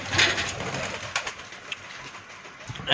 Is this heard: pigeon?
yes